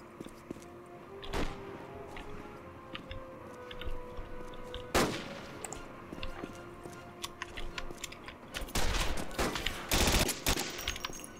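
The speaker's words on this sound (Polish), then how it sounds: "Ktoś do mnie strzela z naciskiem na ktoś, bo nie widzę typa." Scattered gunfire in the WWII video game Cień Stalingradu: a few sharp isolated shots early, then a denser burst of rapid firing near the end, over quiet game ambience.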